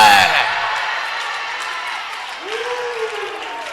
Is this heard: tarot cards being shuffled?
no